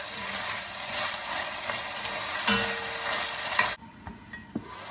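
Drained mushrooms being stirred into a pot of chili, a close scraping and squelching stir over a soft sizzle, with a few knocks of the utensil near the end.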